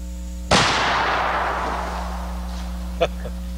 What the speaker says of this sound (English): Just to show how our cruiser model can be shot in an emergency